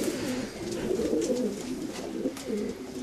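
A racing pigeon coos steadily nearby, low throaty calls repeating in a soft rolling rhythm with no talking.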